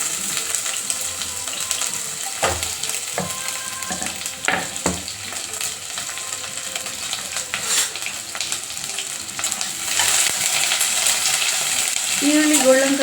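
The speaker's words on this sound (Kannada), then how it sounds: "ಗೋಲ್ಡನ್ ಕಲರ್ ಬರೋ ತನಕ ಫ್ರೈ ಮಾಡ್ಕೊಳ್ಳಿ" Sliced onions fry with whole spices such as cloves, cardamom and cinnamon for mushroom biryani, a continuous bright sizzle broken by scraping stirs and occasional clinks, fairly close and unaccompanied.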